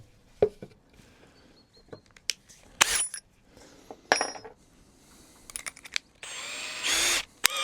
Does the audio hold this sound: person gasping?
no